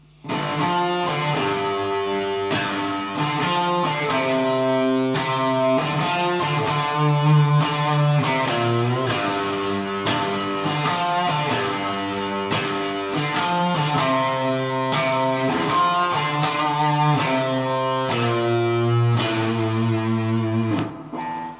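An electric guitar plays the slow, sustained intro of a song, ringing notes washed in heavy reverb, continuous and close without any voices.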